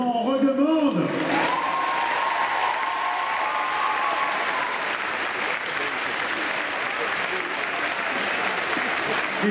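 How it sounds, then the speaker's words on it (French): A packed theatre audience at Christophe-Nicolas Biot's 2021 farewell show in Paris breaks into loud, sustained applause after a brief opening sound, and the clapping continues steadily to the end. "vos applaudissements pour Christophe Nicolas Biot"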